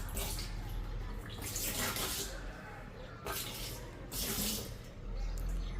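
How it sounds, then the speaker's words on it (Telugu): Floor cleaner is poured into water inside a water tank, heard as a close, continuous splashing rush with surging swells of water noise throughout. "చూడండి, ఫ్లోర్ క్లీనర్ వేస్తున్నాను వాటర్లో"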